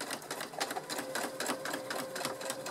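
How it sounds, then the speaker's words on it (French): A sewing machine sews the seam of a tote bag with a normal presser foot, a fast, even run of stitching clatter that continues throughout, close and unbroken. "Donc voilà, je m'apprête à coudre."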